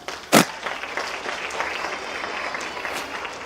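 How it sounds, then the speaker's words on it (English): After a sharp crack at the start, an audience at a science explosion presentation breaks into moderate, steady applause. "Round of applause for him."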